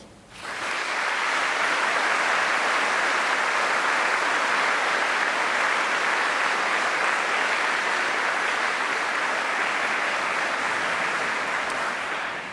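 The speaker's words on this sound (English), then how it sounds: "show your appreciation for those staff with another round of applause." Steady, dense applause from a large graduation ceremony audience, sustained and even for about twelve seconds with a quick rise at the start and tapering at the end, no voices over it.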